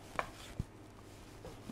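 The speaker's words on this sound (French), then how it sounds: "je coupe ma clémentine" A knife cuts a clementine into pieces for marmalade, giving two or three soft, quiet cuts against a board in a calm kitchen, with no talking.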